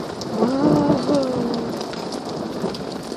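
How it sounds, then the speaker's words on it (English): Steady rain with a low rumble of thunder during a thunderstorm, with a voice rising briefly above the downpour near the start. "it's raining, huh?"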